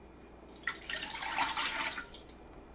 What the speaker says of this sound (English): pour in 3 cups of water